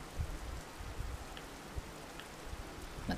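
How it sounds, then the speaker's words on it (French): Rain falls in a steady, soft wash of hiss with occasional distinct drops tapping nearby, quiet and continuous without any talking. "Donc le son de la pluie qui tombe."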